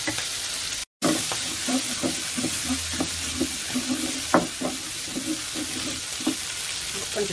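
Satay sauce liquid poured into a hot wok for braised shrimp with satay sauce, giving a steady close sizzle and frying hiss with scraping stir strokes over high heat, no voices.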